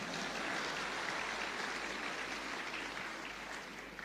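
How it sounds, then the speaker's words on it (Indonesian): Audience at a church gathering applauding, a faint, steady hiss of many hands clapping heard from a distance, fading slightly toward the end. "tepuk tangan, betul tepuk tangan."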